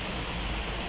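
Steady rain falls at night at a bus station, a dense even hiss of drops on surfaces with no voices.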